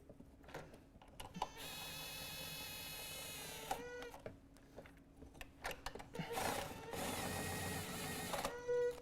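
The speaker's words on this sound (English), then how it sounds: "now I'm just going to run them in until they touch" Bolts being run in on a car's throttle body with a ratcheting tool, bursts of fast mechanical whirring and clicking separated by pauses, close and quiet.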